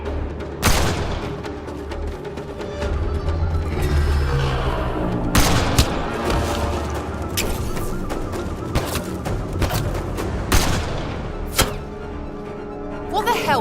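Gunfire crackles in dense, overlapping bursts during a firefight in Mass Effect: Andromeda, loud and continuous with sharp louder shots punctuating a roaring backdrop.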